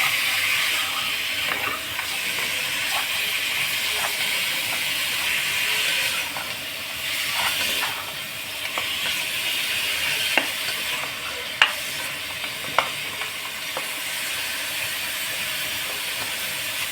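Meat fries in a hot pan with a steady, bright sizzle and hiss throughout, broken by occasional faint clicks and scrapes from stirring.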